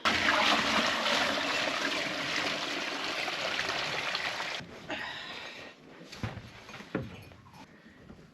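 Water pours in a steady, fairly loud stream into the rabbits' water container for several seconds, then stops, followed by a few soft clanks and handling sounds.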